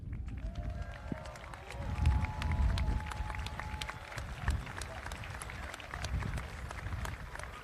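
Audience at a football tournament final applauding the player of the tournament, steady clapping and crowd noise spread across the clip, with a voice speaking over it.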